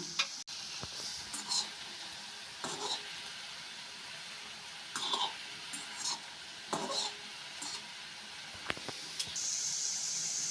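Roti and vegetable balls frying slowly in hot oil, a steady soft sizzle with occasional light clinks and stirring scrapes, close and moderately quiet throughout.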